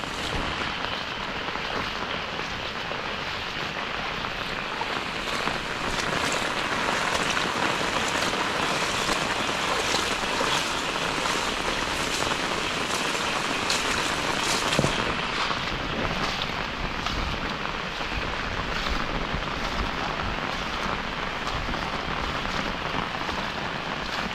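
Rain falls steadily on a riverside paddy field and an umbrella, a continuous close patter of drops that thickens slightly in the middle and runs for over twenty seconds.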